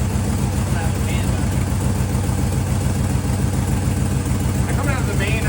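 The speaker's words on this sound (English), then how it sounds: "I wasn't expecting it to be so quiet on startup" GMC Silverado truck engine fitted with long tube headers idles with a steady low rumbling pulse, close by, while people talk over it.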